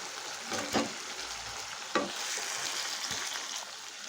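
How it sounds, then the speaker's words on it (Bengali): Chicken and potato pieces for banana-leaf chicken biryani sizzle steadily in a pan over medium gas, with scraping stir strokes near the start and middle over a continuous frying hiss. "আমি এইভাবে মাংসটাকে একটু গ্যাসের মিডিয়াম করে কষিয়ে নিচ্ছি"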